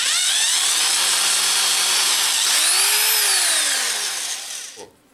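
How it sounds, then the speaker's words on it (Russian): A power drill whirs steadily with a 3 mm bit, boring out a hole in a plastic side cover of a housing, rising in pitch midway before slowing and stopping near the end, close and loud with no talk. "Отверстие рассверливаю сверлом 3 мм."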